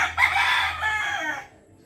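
A rooster crows once, a long strained call close by, trailing off into quiet.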